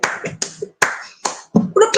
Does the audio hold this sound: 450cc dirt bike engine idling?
no